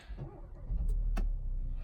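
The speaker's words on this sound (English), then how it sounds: "Start the car up, put that thing in neutral, push button start" A 2019 Hyundai Elantra GT N Line push-button starts, its engine cranking and catching, settling into a low, steady idle rumble after a brief starter whir.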